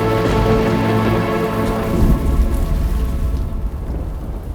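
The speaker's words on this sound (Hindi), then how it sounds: "प्रतीत हो रहा है तीव्र वर्षा आने वाली है।" Heavy rain pours steadily and close, with a deep rumble of thunder rolling through the middle before the downpour continues alone.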